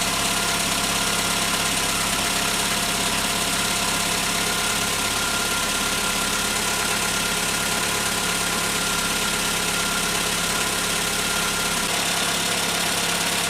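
Skoda Favorit engine idling just after a service, a steady, continuous close-up drone with a faint ticking edge and no voices.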